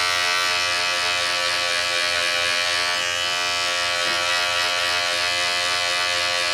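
Electric hair clipper with the lever fully open and no guard, buzzing steadily and loudly throughout a fade haircut with no pauses.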